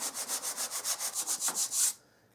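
Red primer sanded by hand on a metal Nazgul sword prop, a steady back-and-forth rasping in about a dozen even strokes, close and clear, ending in one longer pass before falling quiet.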